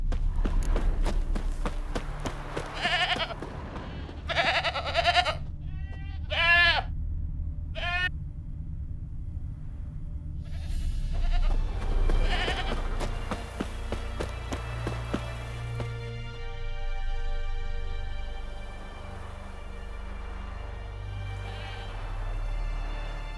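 A goat in The Witcher 3: Wild Hunt bleats several times in quick succession near the start, followed by soft footsteps and ambient game music.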